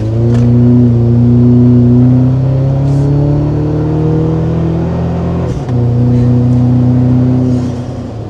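A Toyota Tacoma engine tuned with a COBB Accessport pulls hard and steady up a very steep incline, a loud continuous drone that rises gradually, with a brief dip partway through before resuming.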